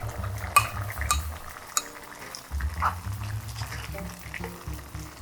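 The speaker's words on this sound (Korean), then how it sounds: "두부 넣고 또 바글바글 끓어오르죠?" Korean doenjang stew with tofu simmering in a pot, a low bubbling boil mixed with soft stirring and occasional utensil clinks, close and moderately quiet, no talking.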